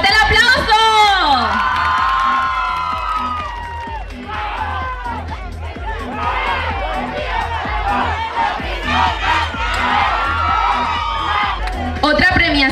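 A large crowd at a traditional festival pageant in Nuevo Galeana, Guerrero cheers and shouts loudly, with whoops and applause blending into a continuous roar.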